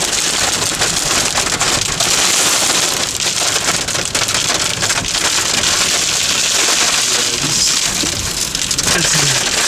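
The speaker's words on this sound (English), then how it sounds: "That's hail. That's a lot of hail." Dense, loud hail hammering down during a tornado storm in Locust Grove, Virginia, a continuous close clatter of impacts on surfaces that fills the whole span with no pauses.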